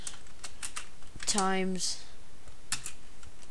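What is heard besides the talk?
computer keyboard keys being pressed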